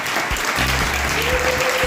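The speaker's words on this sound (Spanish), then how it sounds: "Un aplauso muy fuerte." Audience applause at the 2024 mairalesas presentation ceremony in the Barrio de La Encarnación, Huesca: a steady wash of clapping from a crowd, fairly loud and continuous, with a faint tonal hum running beneath it.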